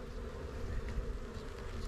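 Honeybees buzz at an opened hive during a spring inspection, a dense, steady drone that fills the space evenly and close, with no voices over it.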